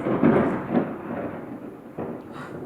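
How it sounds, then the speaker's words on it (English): A thunder clap from a lightning storm booms indoors, a loud low rumble that swells at once and slowly fades, with a second softer roll about two seconds in. "that was a lightning thunder sound and it scared the bejeebies out of me"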